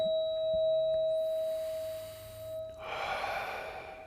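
A pure, sustained metallic tone from a green solfeggio tuning fork rings steadily and fades slowly, accompanied by soft breaths and faint rustling.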